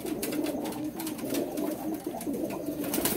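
Sialkoti pigeons, including a female from a Nazir line, coo in a steady, low, throbbing chorus that carries on without pause, close by and fairly loud.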